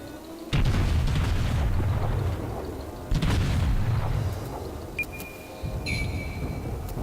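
Heavy booming explosions from torpedo hits on an enemy ship in World of Warships, with a tier 6 Japanese cruiser Aoba in play: two loud deep blasts rumble and roll off, followed by lighter crackling impacts.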